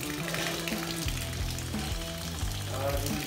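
A hose pushes water into the cooling system of a John Deere 6400 tractor, a steady rushing and gurgling splash that stays close and fairly quiet throughout, with no talking.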